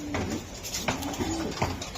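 A racing pigeon gives a short, soft coo close by, a couple of low throaty notes with faint background rustle.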